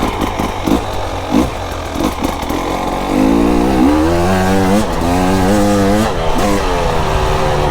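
A pro-ridden enduro motorcycle with a high compression head and a modified power valve cover runs close by. The two-stroke engine blips and crackles in short bursts, then revs up loudly in rising, wavering pulls.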